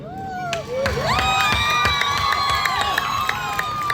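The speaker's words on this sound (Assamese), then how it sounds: "আপোনালোকৰ কাৰণে মই হাত চাপৰি বজাইছোঁ" Audience at a live stage show at Beharbari Outpost clapping and cheering, a steady wash of crowd noise with sharp claps and rising shouts, under loud music and voices throughout.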